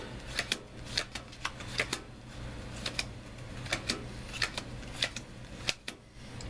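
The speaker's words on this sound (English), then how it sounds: "you're going to count off 10 cards." Playing cards being counted off one by one for a card trick, a series of crisp, close flicks and snaps at an uneven pace, with no voices.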